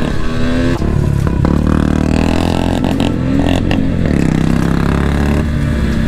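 Royal Enfield Bullet motorcycles race along a road, loud, close engine thumping and revving that rises and falls over a steady drone, with rushing wind and a few clattering knocks.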